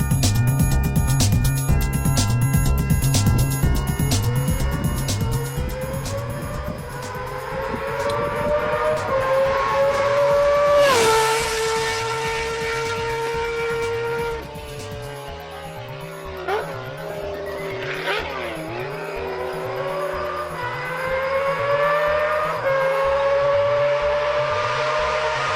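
A Honda Goldwing 1800 motorcycle engine revs loud and close, its pitch climbing and falling through several swells over a pulsing low throb.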